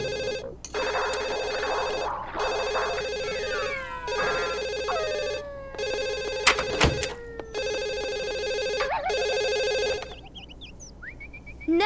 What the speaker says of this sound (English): Go answer the phone, hurry.